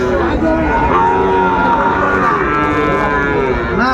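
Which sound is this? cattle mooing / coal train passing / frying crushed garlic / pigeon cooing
cattle mooing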